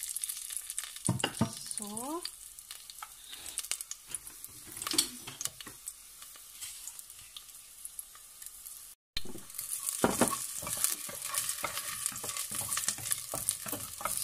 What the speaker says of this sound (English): we wait until it's little hot, then we can add our garlic.